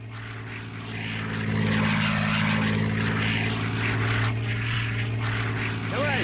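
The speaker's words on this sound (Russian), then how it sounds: "Самолеты разведчики на целью." Propeller reconnaissance aircraft flying over a winter battlefield in the Panzers Phase Three video game, a loud steady droning engine hum that swells as it passes close, with voices shouting over it.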